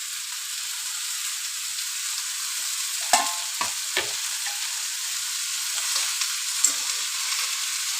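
Spinach sautéing in a pan with tomatoes, a steady close hiss of frying broken by a few scraping stirs, with no talking.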